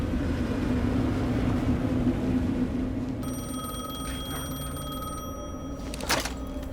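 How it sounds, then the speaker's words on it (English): A telephone rings with steady electronic bell tones in the video game Alan Wake 2, sounding over a low ambient drone and rumble, followed by a brief louder burst near the end. "The phone again."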